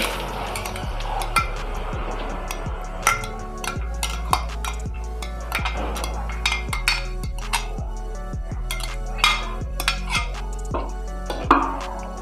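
Chana dal going into a cooking pan: a run of clinks, taps and scraping stirs of metal utensils against the pan, close and fairly loud with irregular spacing.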